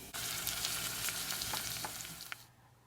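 Garlic and chopped meat sizzling in a pot for an Indian curry, a loud dense crackling hiss with scattered pops close up, easing off and fading out near the end with no talk.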